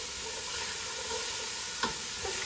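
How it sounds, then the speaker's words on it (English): Carrots and onions sauté with tomato paste for beef barley soup, a soft, even sizzle with occasional stirring scrapes and a spoon tap, close and continuous without talk. "We're sauteing up the carrots and onions."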